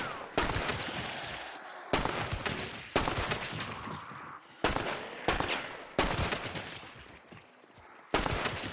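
Dual PAX True Shot pistols fire in the Hunt: Showdown video game, with about eight loud, sharp shots coming at roughly one-second intervals, each one followed by a booming echoing tail.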